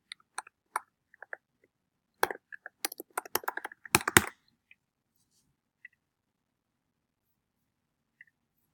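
Fingers tap a computer keyboard in short, irregular bursts, with scattered single keystrokes, then a quick flurry of close, crisp clicks before trailing off into silence.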